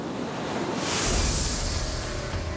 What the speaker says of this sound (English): sometimes a pounding sea overwhelmed even the strongest defenses